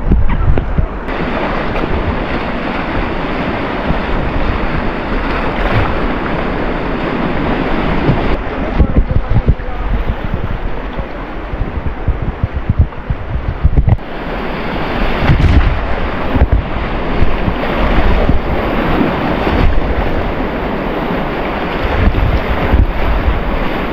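Rushing river water roars continuously during water tubing, loud and close, mixed with heavy wind buffeting the microphone and a few brief shouts.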